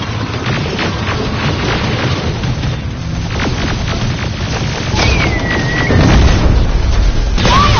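Deep booms and explosions of grenades rumble in a Terminator Resistance shootout, loud and close, with a heavier blast near the end and sharp whistling tones above.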